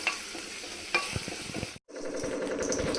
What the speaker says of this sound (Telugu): ఆకులు కొంచెం కలర్ మారినట్టు అవుతున్నాయి ఇప్పుడే కొంచెం సిజ్లింగ్ అవుతున్నాయి